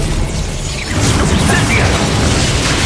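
An Incendio fire spell is cast in the video game Hogwarts Legacy: a loud, dense roaring burst of flame and rumble that swells and holds steady to the end.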